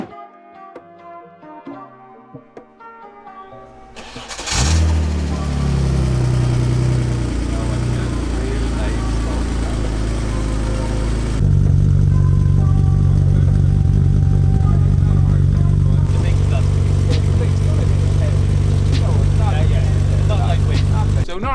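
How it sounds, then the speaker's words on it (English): A classic Mark II Ford Escort rally car with a 2.1 engine starts after a short musical intro, then idles and revs with a loud, steady, rumbling engine note that steps up in pitch midway while a voice talks over it. "this is the car we use, the classic Mark II Ford Escort"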